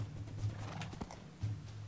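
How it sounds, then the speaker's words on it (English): Horse in Minecraft: soft, quiet hoof clip-clops and faint movement sounds at a low level, a few distinct steps spaced irregularly across a short stretch. "Come on, horsey."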